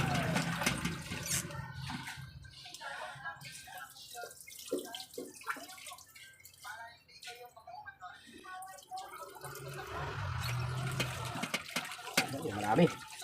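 Tap water runs while vegetables and ingredients are washed for Filipino adobong sitaw, a continuous splashing stream that stops and starts, heard close with someone talking over it.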